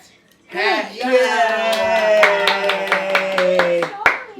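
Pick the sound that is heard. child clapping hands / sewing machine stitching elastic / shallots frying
child clapping hands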